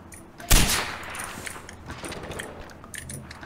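A single sharp, loud sniper rifle shot in Far Cry 4 cracks out near the start, followed by softer clattering and scattered mechanical clicks in the game's ambience.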